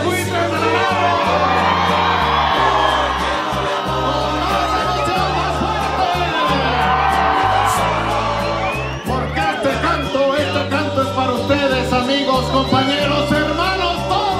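A large crowd cheers and shouts continuously over loud, pounding music at a university rondalla performance, with whoops rising from the din throughout.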